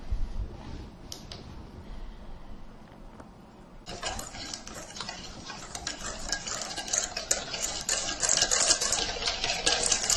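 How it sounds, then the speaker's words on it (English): Stirring cornstarch mixed with peach juice in a bowl, a close spoon scraping and clinking against the bowl that grows louder and busier after a quiet start, with no talking. "we're going to mix this together a little bit to kind of break up the cornstarch"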